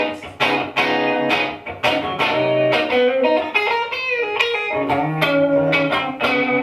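Crunchy distorted rhythm guitar through an amp modeler voiced like a small tube amp, at a guitar clinic: loud, close strummed chords and palm-muted hits in a steady riff, with a brief sustained bend in the middle, no talking.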